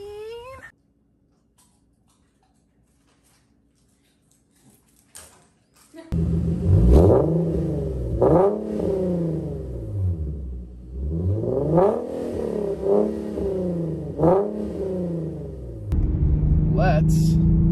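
An Infiniti Q50 engine revs repeatedly after a near-silent start, with several sharp throttle blips rising and falling in pitch. The revs are loud and close, and a steady idle rumble sits between them.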